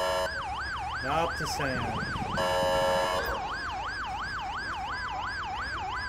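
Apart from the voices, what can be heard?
ambulance siren in video game GTA 5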